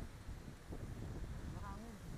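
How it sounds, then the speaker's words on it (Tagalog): Steady wind rumble buffeting the microphone during a ride to waterfalls in Maragondon, Cavite, with a brief voice near the end. "Mahangin. Mahangin."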